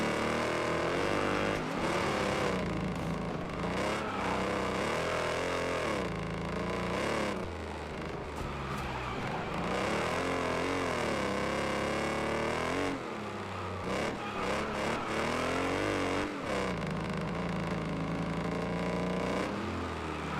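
A raw, raspy video game race car engine with the muffler removed revs loudly and continuously, its pitch climbing and dropping as it shifts through gears.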